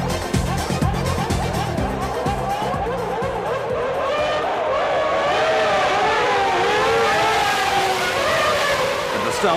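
Formula One cars from the 1994 season accelerating off the start line in a loud, continuous pack, layered engine whines rising and shifting in pitch, with a rumbling crowd-like wash underneath and no talking.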